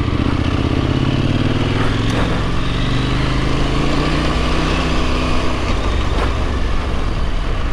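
A Husqvarna Norden 901 motorcycle on new tires rides over grass, its engine a loud, steady rumble close by with wind noise and some clatter throughout.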